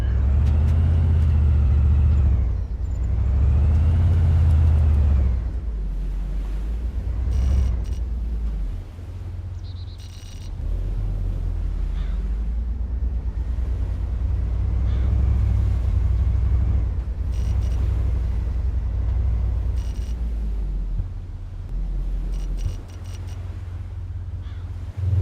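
A car in the DayZ Epoch video game drives with a low, loud droning engine rumble that swells and dips as it accelerates and slows, with scattered crow caws and faint bursts of sound above it.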